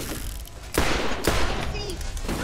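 Gunfire rings out in the Borderlands video game, two sharp loud shots cutting through a background of game noise, fairly close and punchy.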